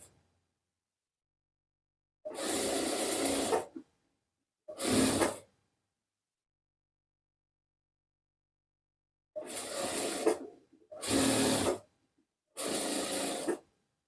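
A sewing machine stitches a fabric hem folded twice while sewing a kameez, in five short separate bursts of whirring with quiet pauses between them.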